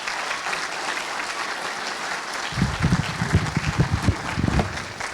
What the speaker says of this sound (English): So let's give them a round of applause once again.